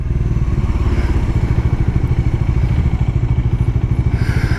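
A Bajaj Dominar 400 motorcycle engine idles with a steady, loud, deep pulsing rumble and rapid even firing beats, close and continuous throughout.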